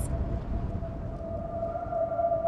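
Wind blows steadily with a rough low rush, and a thin eerie whistling tone hangs over it, rising slightly toward the end, a spooky Halloween atmosphere with no voices.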